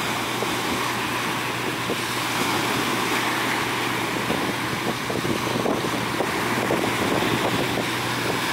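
Steady engine drone of a barge weighing a few dozen tons out at sea with constant wind rushing across the microphone, no voices.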